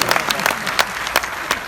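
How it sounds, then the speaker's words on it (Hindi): Audience applause at a Hindi poetry recital, a steady wash of many clapping hands from a crowd with a few sharper bursts standing out, filling the short stretch without speech. "एक बार तालियां बजा के"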